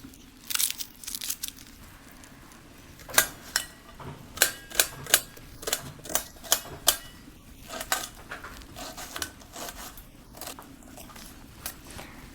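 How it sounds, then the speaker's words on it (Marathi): Two large onions being finely chopped with a knife on a board, a series of sharp crisp chops, clustered in quick bursts with short pauses, close and clear with no talking. "तर ही 2 मोठे कांदे घेतलेले आहेत, मी बारीक कापून घेणार आहे."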